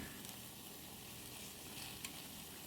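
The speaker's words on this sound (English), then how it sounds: "Sizzle, sizzle." An egg frying in a ceramic frying pan: a steady, even sizzle, continuous hiss with small crackles throughout.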